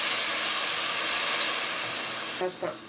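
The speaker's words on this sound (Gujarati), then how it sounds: "પાણી નાખી દેવાનું." Water poured into a hot pan of masala for soybean veg biryani, a loud, steady steaming hiss that slowly eases, followed by a couple of brief thumps at the end.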